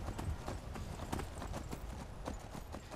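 Horse hooves clip-clopping in the Skyrim video game, a steady quick rhythm of soft hoofbeats at low volume with no clear neigh, and no voices.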